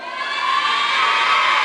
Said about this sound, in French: Vous l'entendez à l'annonce de cette prestation des gymnastes belges, eh bien c'est un tonnerre d'applaudissements